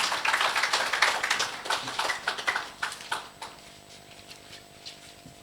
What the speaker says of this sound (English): A round of applause for Lance Nesbitt.